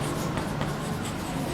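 A pen or marker scratches continuously across a board during a classroom science lesson, a close, steady scraping with no pauses.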